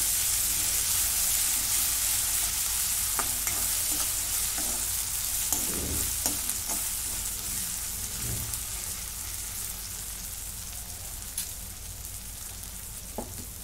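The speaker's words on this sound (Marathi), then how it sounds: "आता एक चमचा आलं लसूणची पेस्ट. आता हे पण 2 मिनिट परतून घेते." Onion with a spoonful of ginger-garlic paste frying in a pan for mixed vegetable bhaji, a loud steady hissing sizzle with occasional stirring clinks, close and slowly easing, no talking.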